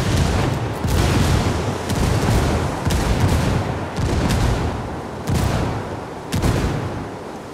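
Gunfire and grenade blasts in the video game Ghost Recon Wildlands: a sustained, loud volley of shots punctuated by several sharp booming impacts at irregular intervals, no voices over it.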